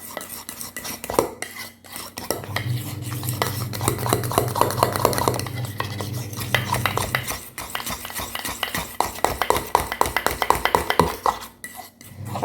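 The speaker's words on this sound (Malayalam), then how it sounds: "ഇനി നല്ലതുപോലെ ഒന്ന് മിക്സ് ചെയ്ത് കൊടുക്കാം." A spoon stirs and scrapes a wheat flour face pack in a bowl, with rapid clinking and rubbing strokes, a sustained scraping stretch in the middle, and continuous close-up stirring throughout.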